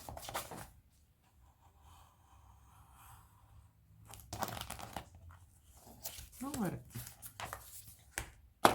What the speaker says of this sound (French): Puisque ça se coupe bien, c'est du carton.